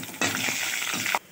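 Peanuts with coriander seeds, cumin and dried red chillies sizzle and crackle in a spoonful of hot oil, a steady close frying hiss lasting about a second.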